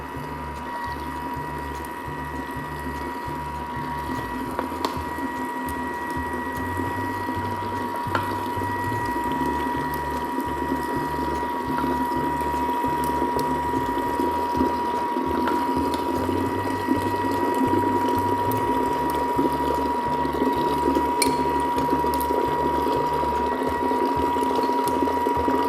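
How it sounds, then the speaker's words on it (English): A Thermomix machine stirring a mixture, a steady motor whir with a rhythmic, cycling low churn that repeats throughout, continuous and close. "And as it stirs, I'm adding the mixture"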